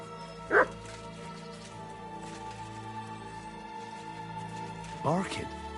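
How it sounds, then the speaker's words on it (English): A dog in the video game Kingdom Come Deliverance 2 gives two short barks, one early and one near the end, over a quiet ambient game backdrop. "Barking."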